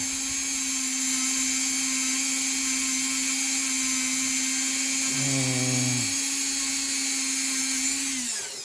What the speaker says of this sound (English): I've got a batch in the ultrasonic bath right now.